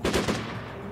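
Gunfire in the tactical video game Arma Tactics: a quick burst of two or three close, sharp shots followed by a fading echo.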